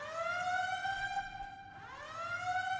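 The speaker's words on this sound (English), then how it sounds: "Ah, sirens." Emergency sirens in the video game Scarlet Nexus wail in a steady rising and falling tone, moderately loud and continuous, with no talk over them.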